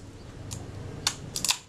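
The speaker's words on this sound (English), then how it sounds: "I could hear that shutter cock before it reached the end of the film advance stroke" An SLR film camera shutter cocking during the film advance stroke: a few crisp close mechanical clicks, one around midway and a quick cluster near the end, over faint background hiss.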